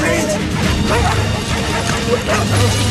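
Several search dogs bark and yip outdoors as a handler urges them on, the barking loud and irregular amid steady background noise and occasional knocks.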